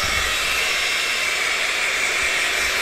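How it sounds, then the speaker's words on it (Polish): A hair dryer blows hot air steadily onto a scooter wrap film, a loud, unbroken broadband whoosh with no pauses or voices. "Mamy suszarkę."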